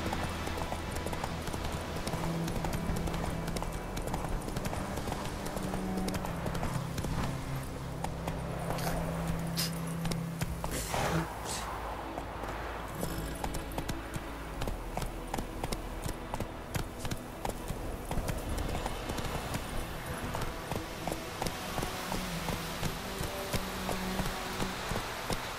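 Hooves of Roach, Geralt's horse in The Witcher 3: Wild Hunt, clip-clop in a steady rhythm over a continuous game soundscape, with a short burst of activity midway.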